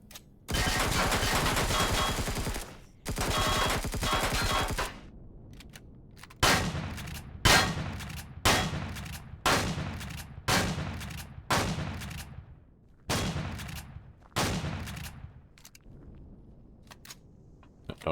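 Gunship gunfire in the video game Empyrion: two long sustained bursts of rapid fire, then a string of about ten separate heavy blasts at roughly one-second intervals, each fading quickly, loud and with no talking.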